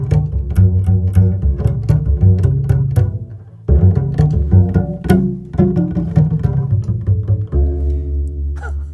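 Bowed double bass prepared with objects on the strings, played close up so it rings with metallic, gong-like Balinese tones; loud sustained strokes with rhythmic bright attacks, a brief break near the middle and a new low drone at the end.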